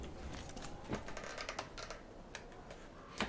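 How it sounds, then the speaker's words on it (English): Binoculars clicking in the Metro Exodus video game, with a series of light, quiet mechanical clicks and ticks scattered irregularly over a soft background. "when I pulled up the binoculars, occasionally it would go and you'd hear that clicking sound"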